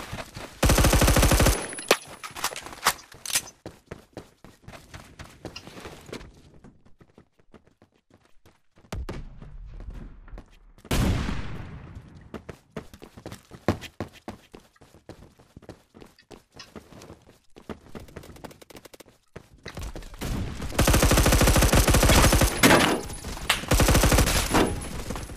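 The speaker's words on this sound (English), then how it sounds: "the shotgun was really good at shotgunning." Shotgun fire in Roblox Phantom Forces comes in loud bursts separated by quieter stretches of footsteps and movement, with heavy, dense gunfire at the start and again near the end.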